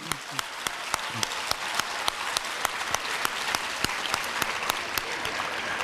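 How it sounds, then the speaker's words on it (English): An audience at a youth ambassadors awards program applauds, with a steady wash of clapping and a few sharp, distinct claps standing out close by. "Another round of applause, please."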